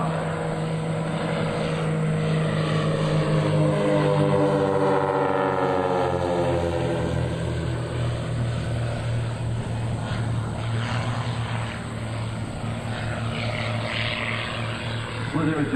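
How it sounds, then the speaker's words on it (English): Propeller aerobatic aircraft doing a mirror flyby at a 2003 military air show at Willow Grove: a loud, steady propeller engine drone that sweeps down in pitch as the planes pass. "The team is now setting up for their signature maneuver, the Mirror Flyby."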